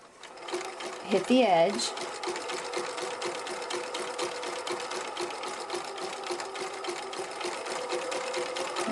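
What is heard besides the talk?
sewing machine stitching a zigzag seam on fabric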